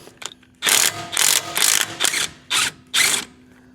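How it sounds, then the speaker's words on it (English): Ratchet wrench removing a bolt during maintenance on a 2015 Sierra truck: six loud, close bursts of rapid clicking, each under a second long, separated by short pauses, with faint knocks before the first. "Helps if you remove the right bolt."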